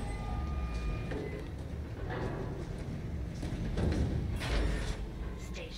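A tram pulling into a station in the Dead Space Remake game, with low mechanical rumbling, clanks and thuds building to a heavier surge near the end, under faint tonal electronic hums.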